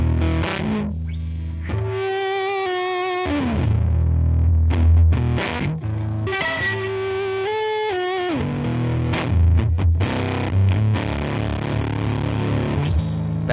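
Electric guitar played through an EHX Percolator fuzz pedal with the gain turned up, giving a loud, saturated, distorted tone as chords and single notes ring on continuously, with no talking.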